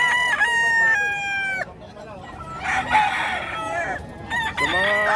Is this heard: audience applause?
no